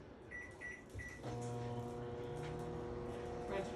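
A microwave oven heating chocolate: three short keypad beeps, then the oven starts with a loud click and settles into a steady, close, humming drone that runs to the end.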